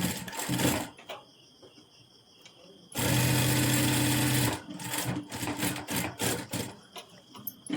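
A sewing machine stitches a princess-cut blouse along a half-inch margin, running in short bursts, then one sustained run, then quick stop-start pulses, close and clear.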